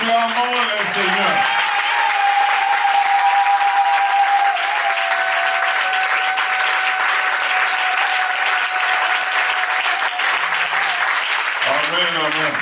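A church congregation claps together at a sermon, a loud sustained burst of applause lasting several seconds, with a voice speaking briefly at the start and again as the clapping fades.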